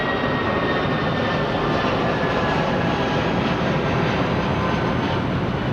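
A DC-9 jet departs London Heathrow, its engines giving a loud, steady, broad roar that holds at constant strength throughout, with a faint high whine above it and no voices.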